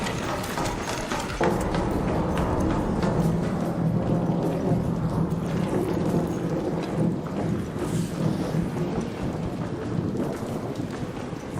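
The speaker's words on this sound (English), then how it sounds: "Oh, thunder." Loud, continuous video-game thunderstorm rumble with rain hiss running the whole way through, swelling with a few crackling bursts and no voices over it.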